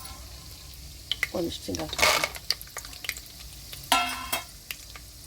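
Seasoning of chana dal, peanuts and urad dal crackling in hot oil in a pan, with short bursts of sizzle and popping, louder around the middle and near the end, while someone talks over it.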